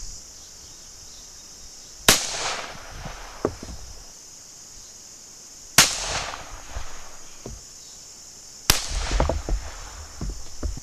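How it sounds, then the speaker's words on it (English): A revolver fires at a target 25 yards away on an outdoor range, with three loud, sharp gunshots spaced a few seconds apart, each followed by a brief echoing tail and some faint handling noise between shots. "Gonna take some shots at 25 yards."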